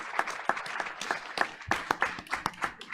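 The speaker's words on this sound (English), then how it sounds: "Let's give a round of applause." Audience applause breaks out at a school district Board of Education meeting: a room of hands clapping in an uneven, fairly dense patter, with individual sharp claps standing out over roughly three seconds.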